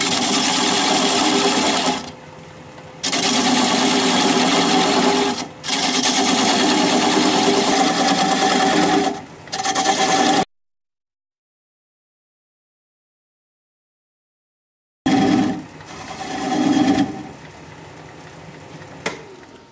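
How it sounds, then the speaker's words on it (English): A wood lathe spins at 600 RPM while a 3/8 inch standard grind bowl gouge cuts away the tenon of a pedestal bowl, giving a steady close whirring hum broken by several short pauses and one long silence. "I'm going to grab a 3/8 inch standard grind bowl gouge and begin removing that tenon at 600 RPM."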